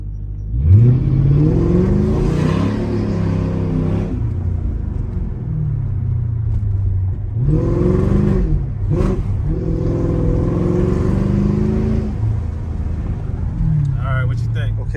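Mercedes SL500 engine revving with the window down, loud rising and falling rev bursts over a steady rumble, with a brief pause between runs and people talking in between.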